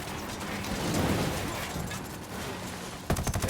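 Rapid gunfire in the tactical shooter Ghost Recon Wildlands, a steady run of overlapping shots and mechanical clatter at moderate loudness, ending in a few sharper bursts, with no voices.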